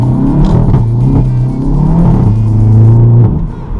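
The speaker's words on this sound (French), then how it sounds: "Là je vais vous faire une petite accélération" A VW Golf VII GTI tuned to stage 1 with a loud exhaust accelerates hard, its engine rising in a loud, close, continuous roar through the revs before easing off near the end.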